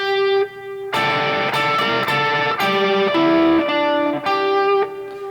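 A lick from a song played on an electric guitar with a slightly driven tone: a held note, then a run of bends, single notes and small three-note chord stabs, loud and close with no talking.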